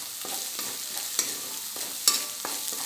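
A spoon scrapes and stirs ground ginger, green chilli and garlic paste frying in a pan, with soft sizzling beneath a few sharp rhythmic scrapes and two louder clinks, close and without speech.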